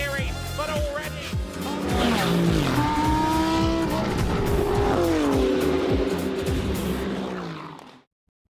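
GT race cars at Portimão circuit roar past loudly, engines screaming through rising and falling gear changes with tire squeal, several cars overlapping before the sound cuts off abruptly.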